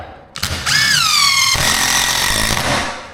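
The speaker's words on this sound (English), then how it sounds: "So I screwed that into the metal studs and glued it." A power screwdriver drives screws into metal studs, the motor whining up sharply and then holding a loud, strained buzz for a couple of seconds before tapering off, close and alone.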